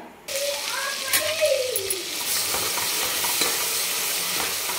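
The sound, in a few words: ground black masala paste sizzling in hot oil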